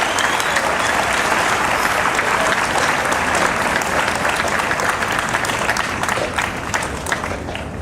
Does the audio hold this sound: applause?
yes